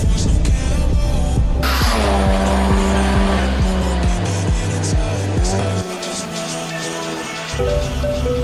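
A race car at Mandalika circuit in rain on a wet track, its engine roaring loud and close with shifting revs, gear changes and tire squeal, with no one speaking.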